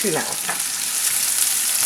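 A metal utensil stirs onions frying in a skillet, giving a steady close sizzle with a few soft scrapes mixed in.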